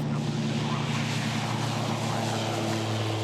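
A Pipistrel Alpha Electro electric aircraft taking off at Jandakot Airport in Perth, heard as a steady broadband whine and hum with a roar of rushing air, holding even and fairly loud throughout with no voices.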